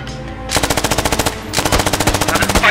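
Rapid automatic gunfire in the video game Squad, two long bursts of evenly spaced shots, loud and close, with a short pause between them.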